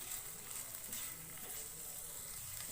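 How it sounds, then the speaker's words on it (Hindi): Chicken cooks dry on a high flame after its liquid has evaporated, making a soft, continuous sizzle and faint frying crackle at low volume with no talking. "अब हम इसको 1 से 2 मिनट और पकाएंगे। हाई फ्लेम पे पकाएंगे।"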